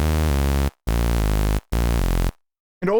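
Saw noise bass patch from the Serum synth with chorus switched on, three thick, buzzy sustained bass notes separated by short gaps, loud and close, then silence and a brief bit of talking at the end.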